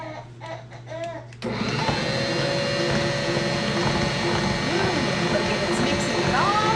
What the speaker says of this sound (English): now we're going to turn on our mixer again